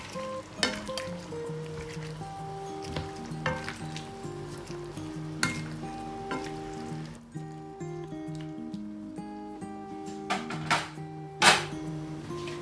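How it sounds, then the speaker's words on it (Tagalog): Pancit bihon noodles sizzle and crackle steadily in a pan while being stirred, with scraping and clinking of a utensil against the pan and a few louder knocks. "Haluin natin ng konti."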